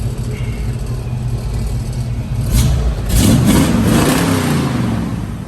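A 1968 Chevrolet Camaro engine idles with a low rumble, then revs up in a few quick, loud bursts before easing back down, close by with no talking.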